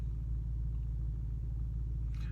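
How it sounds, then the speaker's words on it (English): An Audi RS5 idles to warm up, a steady deep low rumble close by with a faint higher hiss and a slight scrape near the end. "I'm gonna just keep the car running for now, just to heat it up a little bit"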